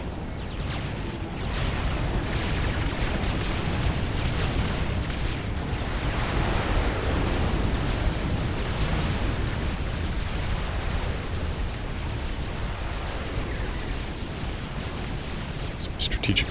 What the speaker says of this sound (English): Ooh, there's a big explosion.